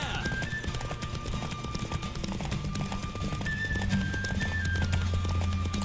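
Horse hooves clip-clopping at a gallop during a race in the video game The Witcher 3, a steady rapid hoofbeat rhythm over game music and ambient effects, with an occasional whinny.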